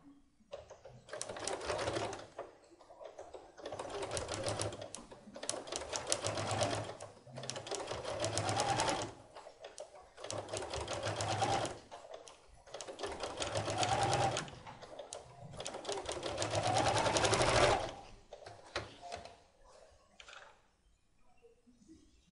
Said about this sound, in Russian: Растрачиваем мешковину, отворачиваем ее и по мешковине прокладываем строчку